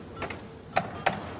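Several short mechanical clicks and ratcheting snaps from a rotary telephone dial being turned and released, close and fairly quiet, spaced unevenly with no voices.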